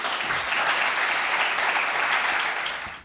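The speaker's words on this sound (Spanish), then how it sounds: "por favor pido un aplauso para Albert Esplugas" Sustained audience applause welcoming a speaker to the stage, dense even clapping that holds steady for about three seconds and then fades out at the end.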